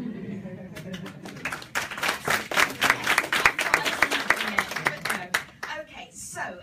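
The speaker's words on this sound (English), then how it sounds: "Is that applause I hear?" Audience applause from a crowd at a panel event, a dense patter of many hands clapping that swells and holds steady for several seconds before thinning out, with some voices faintly underneath.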